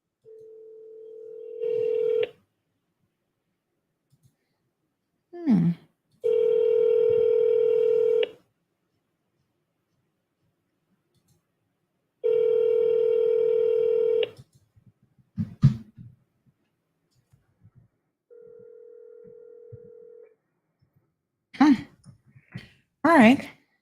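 Telephone keypad dialing tones, several steady beeps of a few seconds each separated by silence, loud and close, with short bursts of speech between them.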